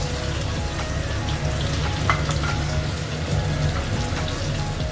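Khoira fish, rubbed with salt and turmeric, fry in hot oil with a dense, even sizzle that holds steady throughout, close and continuous with no voices.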